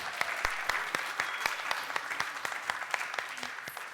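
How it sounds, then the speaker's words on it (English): An audience applauds a startup pitch presenter at an Austrian investment showcase, a steady patter of many hands at moderate distance with no voices over it. "Big applause for Andras, everyone."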